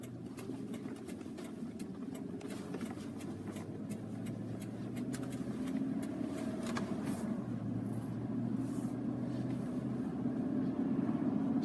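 A car on the move with a steady engine hum and road rumble throughout, moderately loud and continuous, gradually swelling a little louder toward the end, with no talking.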